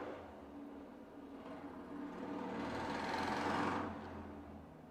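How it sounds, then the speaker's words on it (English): A motorbike passes outside, its engine drone swelling to a peak and then fading as it moves away, heard at a moderate distance with no one talking. "that was a motorbike"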